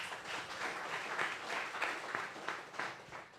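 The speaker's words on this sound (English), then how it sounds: "Please give them a round of applause." Moderate audience clapping for judges at a startup pitching session, a continuous patter of many hands with slight swells in intensity.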